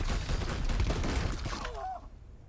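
Gunfire in the video game Warhammer 40,000: Chaos Gate - Daemonhunters, a dense loud burst of shots and crackling impacts that fades with a brief ringing tail.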